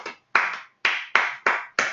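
Several people clap a tricky syncopated song rhythm together, six sharp group claps in an uneven pattern with short gaps, close and fairly loud with no talking.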